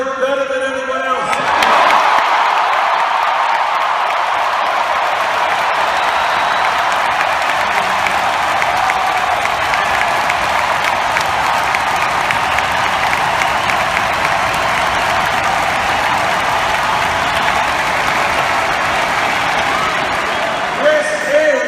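A crowd of 20,000 at a 2016 Bernie Sanders rally in Portland, Oregon, claps and cheers in a loud, continuous roar that begins abruptly and holds steady to the end.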